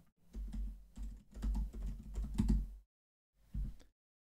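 Someone types an account name on a computer keyboard: a quick, steady run of close key clicks for nearly three seconds, a short pause, then a final brief burst of keystrokes.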